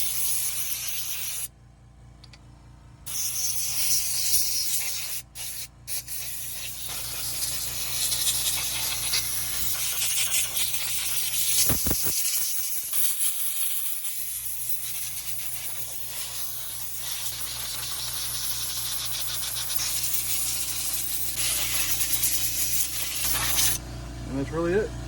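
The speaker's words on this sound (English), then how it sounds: "Go ahead and blow off the car now. Don't let that fan spin if you're using compressed air." Compressed air blows off an RC car in long, loud, steady hissing sprays, broken by a few short pauses and one brief gap before the blast resumes.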